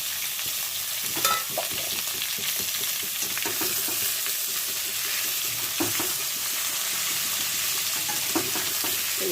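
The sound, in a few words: potatoes, tomatoes and capsicum frying in a pan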